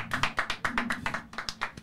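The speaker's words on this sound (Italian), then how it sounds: "Guarda, faccio un applauso. Applauso." Rapid, steady hand claps close by, about a dozen in quick rhythm, with no talking.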